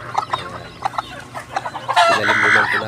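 Hens cluck in short repeated bursts, then a louder rooster-like squawk rises toward the end, with farmyard ambience underneath.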